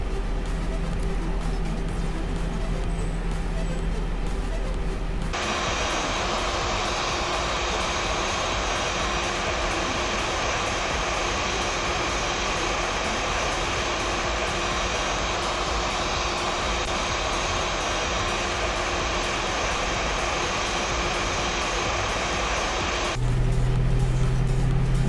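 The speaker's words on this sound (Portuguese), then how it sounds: "a gente vai fazer o acionamento dos motores" Airbus A320 engines starting in the FlightFactor flight simulator, a steady low rumble joined by a rising broad turbine whine that holds for nearly twenty seconds before dropping back to the quieter background hum.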